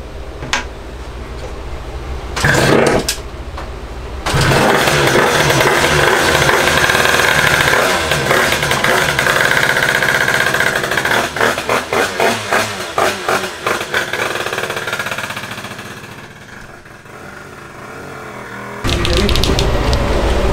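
A Honda HM 2Fast 100cc motorcycle engine is run on a dyno test bench, rising to a loud sustained high-revving pull that ends in a rapid series of popping misfires. The engine briefly sounds before and after the run, with no speech over it.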